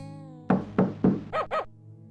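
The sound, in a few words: knocking on a door in the video game Police Quest 3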